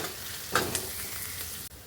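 Onion and green chillies frying in a pan as ginger garlic paste goes in, giving a continuous quiet sizzle with a brief stir or clink partway through.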